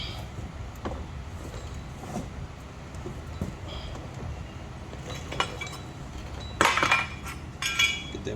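Metal clinks and taps sound while a Jaguar F-Type R brake caliper is handled during a brake pad change, with scattered close knocks and a brighter rattling clatter near the end.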